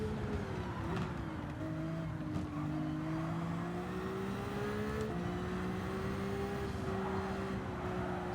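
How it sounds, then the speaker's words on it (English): A Ferrari Vision Gran Turismo race car lapping the Fuji circuit in Gran Turismo, its engine holding a loud, steady high-pitched drone that shifts pitch with gear changes and throttle, with no talk over it. "10 laps around Fuji in the Vision Gran Turismo Ferrari"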